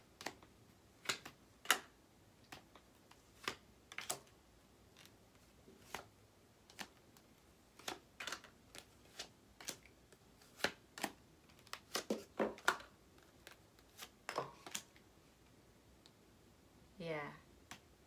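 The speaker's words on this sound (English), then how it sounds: "I feel like I need to shuffle that again because those popped out." Tarot cards being shuffled and handled close by, a run of sharp, irregular snaps and taps, quiet at first and then clustering more thickly, with a brief murmur near the end.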